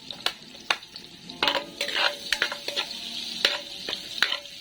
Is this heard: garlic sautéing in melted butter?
yes